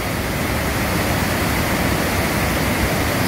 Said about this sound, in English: This is Willow River Falls. Look how gorgeous that is.